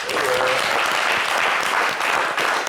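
A small comedy show hall audience breaks into dense, lively applause that holds strong and close throughout, with scattered louder claps over the steady wash.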